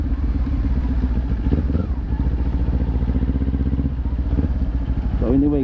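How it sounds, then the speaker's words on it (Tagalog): Kawasaki Ninja 400 motorcycle engine idling close by, a steady low throbbing rumble with small rev changes, while a person talks over it. "yung Kawasaki Ninja 400 na to"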